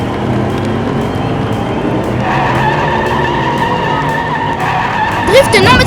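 A Jaguar race car skids in a drift during a racing quarter-final against a Corvette, with sustained tire squeal and engine roar building to a sharp screech near the end, under excited commentary.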